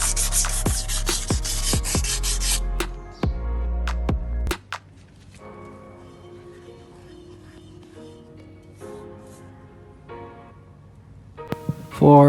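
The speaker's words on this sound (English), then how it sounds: "sand all the existing rust off the steel rims" Abrasive scraping as rust is sanded off steel car rims, loud and steady for the first few seconds, then quieter intermittent rubbing with sharp knocks, under faint background noise.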